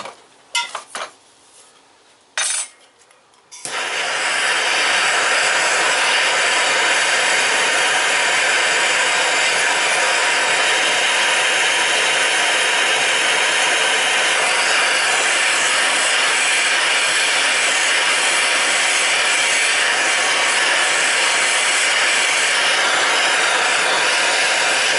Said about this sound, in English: Let me get my torch.